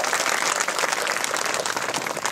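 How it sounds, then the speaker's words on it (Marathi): A crowd at a Marathi public gathering bursts into loud, sustained applause, a dense wash of clapping that holds steady for the full stretch with no voices on top. "त्यांच्यासाठी एकदा जोरदार टाळ्या वाजवा."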